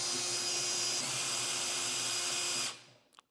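A power tool whirs steadily and close while removing 4mm Allen bolts from a Ducati Panigale V4 gas cap, then cuts off, leaving a few small clicks.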